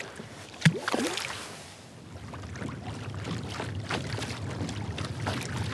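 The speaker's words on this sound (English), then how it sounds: "this wind is starting to pick up on me a little bit" Wind blows outdoors on open water where someone is fishing from a small boat: a steady rushing buffet across the microphone with a sharp knock near the start, close and moderately loud.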